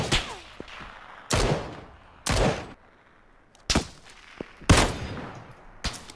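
Gunshots ring out in PlayerUnknown's Battlegrounds: about five loud, separate reports at irregular intervals, each with a booming, echoing tail, and quieter pops between them.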